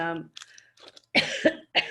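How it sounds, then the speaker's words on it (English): A few sharp coughs burst out in quick succession after a brief stretch of speech, close and fairly loud. "And I'm coughing now."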